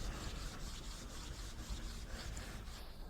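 Microfiber block rubbing Dr. Wack intensive cleaner across car paint, a steady soft scrubbing hiss with faint back-and-forth strokes, close and continuous, no talk.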